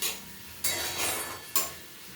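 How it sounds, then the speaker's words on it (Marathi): Onion sautés in a pan over raised heat while being stirred, with two distinct scraping strokes over a soft, steady sizzle close by. "थोडासा गॅस थोडा वाढवून आपण कांदा परतवणार आहोत।"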